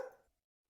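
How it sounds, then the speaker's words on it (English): A single short dog bark, fairly close, cutting off quickly into silence. "natural noises like a dog barking"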